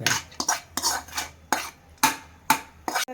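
Ragi idli batter being stirred in a bowl, with a series of sharp, rhythmic scraping clinks from a spoon repeating about every half second, close and fairly loud, with no talking.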